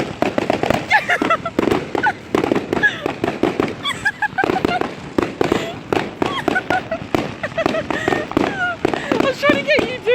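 New Year fireworks and firecrackers burst in rapid irregular pops and bangs, loud and close, while people talk over the crackle.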